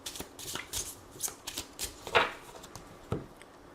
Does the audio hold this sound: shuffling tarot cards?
yes